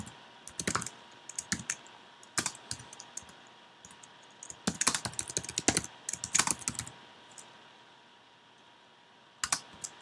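Typing on a computer keyboard during coding, with irregular bursts of close, crisp key clicks separated by quiet pauses.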